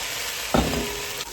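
Potatoes tip into a hot pan of spices while kala chana daal is being cooked, setting off a sudden loud sizzle that settles into steady frying hiss for the rest of the moment.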